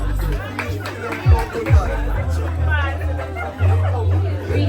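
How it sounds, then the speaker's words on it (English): Crowd noise at a high school awards ceremony, a steady hubbub of chatter and cheering with brief louder swells, with a voice speaking over the crowd. "Hear them cheering you on"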